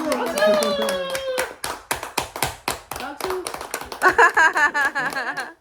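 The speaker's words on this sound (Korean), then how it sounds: "박수." Hands clap in a quick irregular series close by at a family baby's birthday celebration at home, mixed with singing and cheerful voices over the claps.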